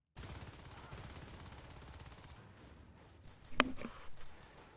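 Quiet, rapid pistol gunfire from a competitive shooter-game match crackles in a quick burst of shots, followed by a few sharper, louder reports near the end.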